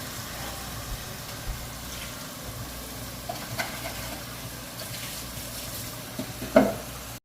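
Eddoes frying in a pot for a Guyanese whitebelly shrimp stew, a steady low sizzle with occasional stirring clinks and a brief louder scrape near the end, no voices.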